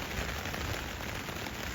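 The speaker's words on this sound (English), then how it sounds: "the wind and the rain is proper buffeting the tent around" Wind and rain buffet a tent on a coastal walking path, a steady broadband hiss and patter of drops on the fabric that stays fairly faint and unbroken throughout.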